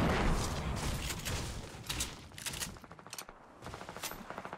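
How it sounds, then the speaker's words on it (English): Rapid gunfire crackles through a Fortnite match, a dense, loud burst of automatic shots that thins into a steadier run of quicker, lighter pops near the end. "Oh no, a guy's shooting at me."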